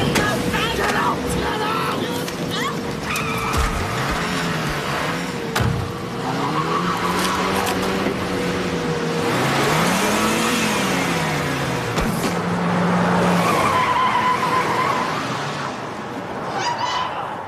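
Car driving off and skidding during a street robbery scene, engine revving and tires squealing in rising and falling sweeps, close and loud, with shouting voices mixed in.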